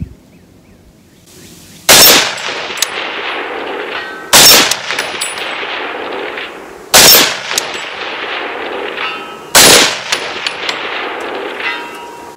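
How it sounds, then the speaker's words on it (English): A .30-06 AR-style rifle, the BCA Huntmaster, fires four loud, sharp shots outdoors at roughly two-and-a-half-second intervals, each blast followed by a short ringing decay before the next. "let's see how fast we can get 4 shots here"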